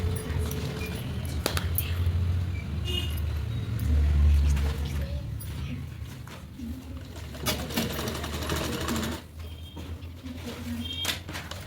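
Sewing machine stitching the sleeve of a katori-cut blouse: a close, steady mechanical whir running in short bursts, with a low hum and small clicks throughout.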